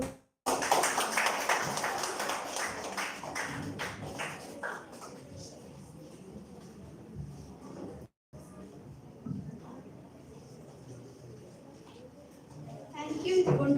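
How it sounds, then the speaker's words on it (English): Audience applause for a student's speech about badminton at a live school event, a burst of many hands clapping close by that thins out and fades, with a brief gap and a voice toward the end. "Please let give round of applause"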